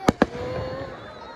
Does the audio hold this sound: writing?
no